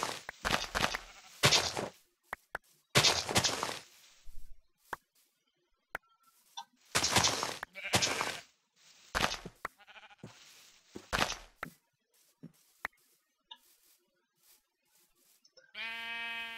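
Sheep bleating in the video game Minecraft, several loud, broad bursts repeating in irregular bursts with short pauses and faint ticking between them.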